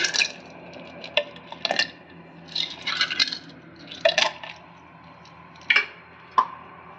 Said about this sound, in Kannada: ಐಸ್ ಕ್ಯೂಬ್ ಹಾಕೊಂತ ಇದ್ದೀನಿ